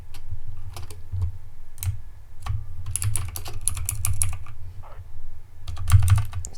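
Rapid typing on a computer keyboard, bursts of crisp clicking keystrokes with short pauses between runs, close and alone.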